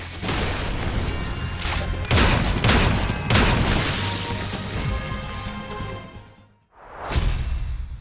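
Rapid gunfire volleys from the video game Limbus Company, sounding as loud, close cracks and booms in dense bursts, then a brief drop to near silence before one more blast.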